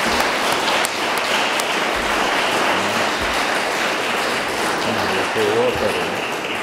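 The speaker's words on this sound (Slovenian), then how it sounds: "Jaz vas prosim za aplavz našim sogovornikom." Audience applause for the speakers at a commemorative discussion event, a steady broad wash of clapping lasting several seconds with faint voices mixed underneath.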